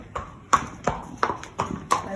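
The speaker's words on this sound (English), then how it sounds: "I'm going to walk by these stallions that always have a fit when we walk by." A horse is led at a walk through a stable past stallions, its hooves clip-clopping in a steady rhythm of about half a dozen distinct, close steps.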